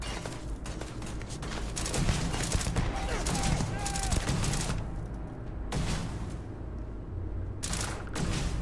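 The Vampire's Gift gun fires in Starfield, rapid bursts of gunfire broken by short pauses amid game noise, fairly quiet overall, with a voice talking at times.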